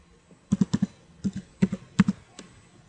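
Keys on a computer keyboard are tapped to enter a command, about a dozen close, crisp clicks in quick pairs and small clusters with short pauses between them.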